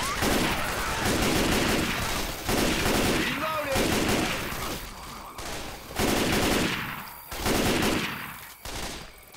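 Rapid gunfire in the Left 4 Dead Swamp Fever campaign, including a semi-auto sniper rifle, rattles in dense, near-continuous loud bursts through most of the stretch, with brief lulls between volleys.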